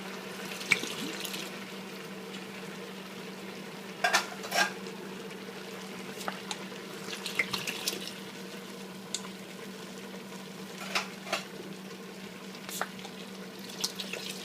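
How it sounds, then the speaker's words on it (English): Clam juice poured into a pot of soft, reduced cooked vegetables for clam chowder: a steady liquid trickle over a low hum, with scattered light clinks and taps and no voices. "we can add our clam juice."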